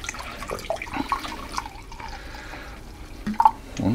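Apple cider vinegar is poured into a measuring cup in a kitchen, making a faint, thin trickle with a few small drips and splashes, close and quiet.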